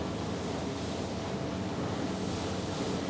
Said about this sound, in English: we'll find a couple of little bits of chop, and you'll see we've got splashes coming off the forward part of the hull